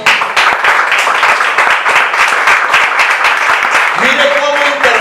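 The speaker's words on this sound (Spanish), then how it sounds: "Den un aplauso al Señor." A church congregation claps loudly and rapidly together in sustained applause, with a voice rising at the end of the burst.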